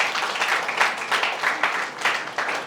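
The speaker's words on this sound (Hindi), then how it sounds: "ताली बजाएंगे" An audience applauds at a Hindi Bible-message gathering, a dense steady wash of clapping that swells in rhythmic pulses for a few seconds.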